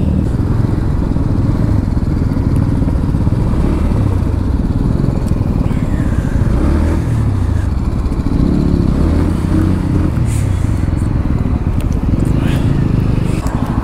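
Superbikes gathered at a Sunday rider meetup, loud continuous engine rumble with idling and revving bikes close by, a dense low mechanical drone that stays heavy from start to finish.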